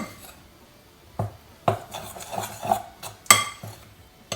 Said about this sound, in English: you're going to put in all the cheese and just stir in